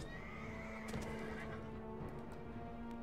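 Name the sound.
horse neighing in Mount & Blade Warband video game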